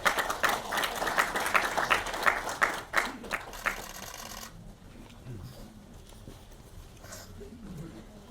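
At a Korean lecture on state history textbooks, an audience welcomes the speaker with brisk, rhythmic clapping that fades after about four seconds into low room noise with faint movement.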